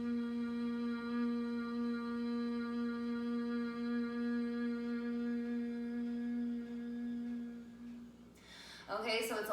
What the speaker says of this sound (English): So it's a long hum on the exhale, and that is the sound of the buzzing bee